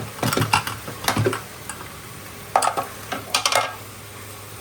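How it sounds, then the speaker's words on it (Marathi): Cluster beans being sautéed in onion and oil in a home kitchen, a faint sizzle under bursts of clinking, scraping stirring strokes against the pan, close and irregular. "गवारीचा कलर बदलेपर्यंत मी इकडे आता गवारी परतणार आहे."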